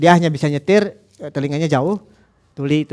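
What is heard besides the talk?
No distinct noise like a dog, phone or traffic.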